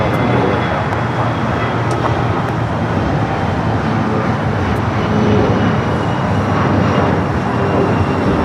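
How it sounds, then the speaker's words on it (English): A United Express SkyWest CRJ200 regional jet takes off from the south side of Los Angeles International Airport, a loud, dense, continuous engine roar with no pauses throughout. "J200 with United Express SkyWest taking off here in the south"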